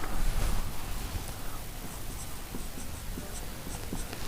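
Steady scratching of a pen or chalk writing out an equation by hand, continuous strokes with small taps, fairly close and alone.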